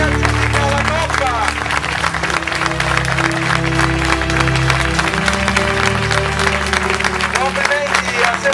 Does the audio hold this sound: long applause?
yes